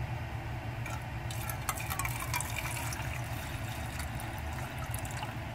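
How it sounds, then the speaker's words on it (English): Water is poured into a cat's bowl, a soft continuous trickle and splash with faint clinks, fairly quiet and close, with no talking. "first we're going to give Miss Kitty some water"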